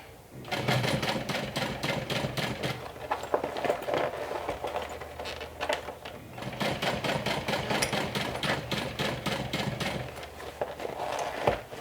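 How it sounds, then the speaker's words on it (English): A sewing machine top stitches slowly around a circle on a convertible handbag. It runs in several rapid, rattling bursts separated by short pauses and stays close and steady throughout. "I'll top stitch all around the circle"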